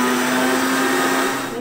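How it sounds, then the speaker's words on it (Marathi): A mixer grinder whirs at full speed grinding masala for a Malvani-style tomato saar with fish curry flavours: a loud, steady motor drone with a humming whine that holds constant, then dips slightly at the very end. "आता हेही मी बारीक वाटून घेणार आहे।"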